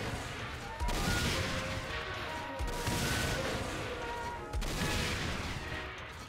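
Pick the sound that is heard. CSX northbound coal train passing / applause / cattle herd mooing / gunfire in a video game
gunfire in a video game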